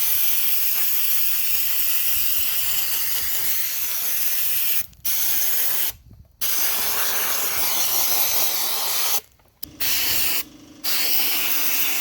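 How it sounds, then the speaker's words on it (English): Sandblasting exhaust parts before painting, a loud continuous broadband hiss of blasting air and grit in several long bursts, with brief pauses where the trigger is released. "We're just going to sandblast it pretty light."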